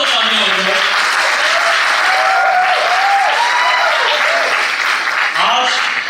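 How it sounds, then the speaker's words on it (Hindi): Loud, continuous applause from a seated audience at a company event honouring its founders, a dense wash of clapping that holds steady for about six seconds, with a few voices calling out over it. "एक बार जोरदार तालियां हो जाए"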